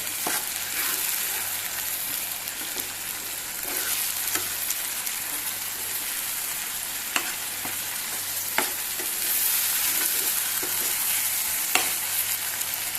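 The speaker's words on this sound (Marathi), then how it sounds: "आनी बरो आतां हो फ्राय करपाचो।" Goan-style green chicken masala sizzling steadily in a pan, a dense continuous frying hiss with occasional sharp clicks of a spoon stirring against the pan, close and fairly loud, no talking.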